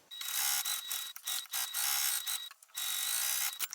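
A sewing machine runs a basting stitch an eighth of an inch from the edge of a fabric notebook organizer, sounding as a series of close, whirring, ratchety bursts with brief pauses between them.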